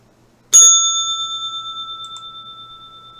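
A single bright bell strike rings out close and clear, then sustains a pure, slowly fading tone for nearly three seconds over near silence.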